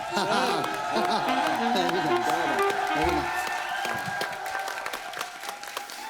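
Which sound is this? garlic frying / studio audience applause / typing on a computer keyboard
studio audience applause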